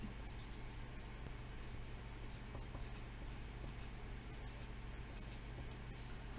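Handwriting on paper while composing a friendly letter: a steady close scratching of pen or pencil with continuous soft strokes and brief pauses, quiet and alone.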